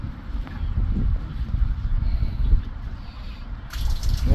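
Water from a poured bucket rushing through a freshly unblocked drain pipe, a steady broadband gush and gurgle that swells near the end, close and continuous with no speech.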